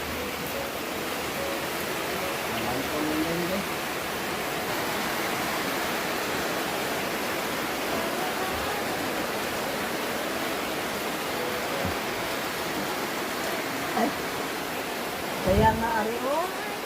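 Steady rain pours down outdoors in Bohol, Philippines, a dense even hiss throughout, with a couple of faint thuds near the end as water collects in a bucket.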